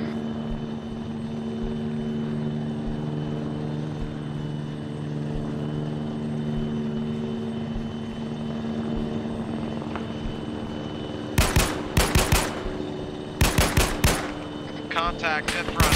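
Helicopter engine and rotor at an airsoft-style operation, a steady loud mechanical drone throughout, broken near the end by sharp rapid bursts of gunfire.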